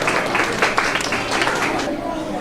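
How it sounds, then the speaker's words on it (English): An audience at a hospital holiday celebration claps for Jill Williams, a brief burst of scattered applause that fades out over a couple of seconds while a voice talks over it. "Give her a round of applause, guys."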